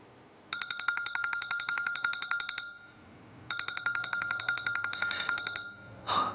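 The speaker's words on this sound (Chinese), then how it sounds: "公司的电话，我出去接一下。" A phone rings in two bursts of rapid electronic trilling, each about two seconds long with a short gap between them, loud and close, followed by a brief rustle at the end.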